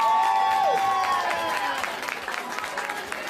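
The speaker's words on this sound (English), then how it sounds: "Give Amber a massive round of applause." Audience applause and some cheering for a girl having her head shaved for a kids' cancer charity, clapping rising after a tonal sound and continuing as scattered claps, with voices mixed in.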